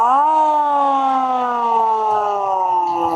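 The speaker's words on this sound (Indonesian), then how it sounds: "ini sirine bawaannya dari unit Toyota ini, sirine jadul. Suaranya khas." An old mechanical siren on a Toyota fire truck wails steadily, loud and near, its pitch rising briefly then slowly sagging, with faint background noise beneath.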